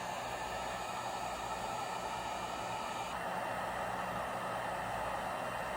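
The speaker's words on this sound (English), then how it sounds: "go ahead and grab my heat gun, and I'm going to gently, very gently" A heat gun blows a steady, even rush of hot air onto a motorcycle helmet mount, a constant hiss that runs unbroken and alone for the whole clip.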